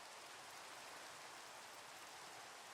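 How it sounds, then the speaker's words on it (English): Steady rain falls in the video game Minecraft, a continuous even hiss of drops with no voices, faint and unbroken throughout. "It rains too god dang much in Minecraft"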